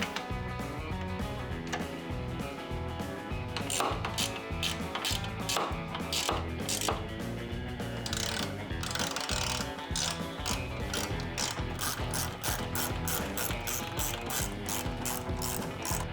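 A hand ratchet tightening bolts while fitting a carbon fiber body onto a Harley Touring motorcycle clicks in fast, continuous repeated bursts, loud and close, with a tonal background underneath.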